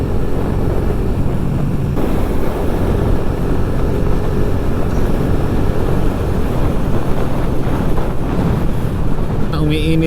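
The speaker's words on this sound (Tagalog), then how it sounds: "Iba na yung buga ng hangin dito." Wind roars steadily across the microphone during an outdoor ride in La Union. The noise is constant, broad and fairly loud, with no clear breaks.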